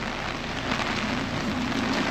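Heavy rain pours steadily in Taiwan, a dense, even hiss of drops on surfaces with no letup and no voices over the short stretch.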